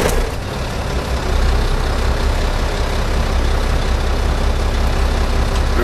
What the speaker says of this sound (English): Start your truck.